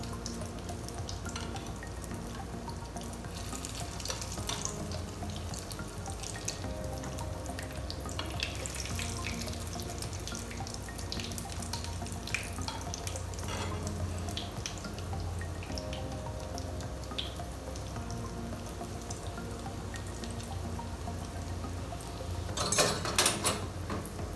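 Christmas cutlets fry in hot oil in a pan at home, giving a soft, continuous sizzle that stays faint and even, with a short burst of louder crackling near the end.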